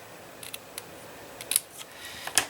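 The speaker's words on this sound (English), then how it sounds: "I'm going to cut a little slit up the middle and then go to my sides" Scissors cut a slit up the middle of a K-Cup gift box: a handful of sharp, close snips in an irregular rhythm, with quiet gaps between them and no talking.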